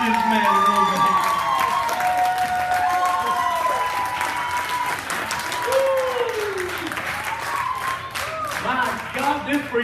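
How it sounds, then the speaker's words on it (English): Audience applause with cheering and shouts at a church service where a seven-year-old boy preaches. Loud, sustained clapping fills the whole stretch, with voices calling out over it. "Stand up, give this man a roll of applause."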